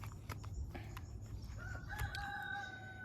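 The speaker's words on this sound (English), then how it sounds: "just ignore the roosters" Roosters crow in long drawn-out calls from a moderate distance over a steady low background rumble, with no talking.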